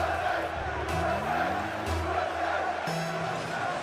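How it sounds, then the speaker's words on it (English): A large crowd roars and cheers steadily throughout at the Rocket League RLCS World Championship, a dense wash of noise with a voice faintly audible within it. "And don't the crowd love it?"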